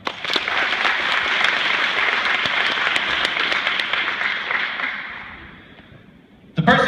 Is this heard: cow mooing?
no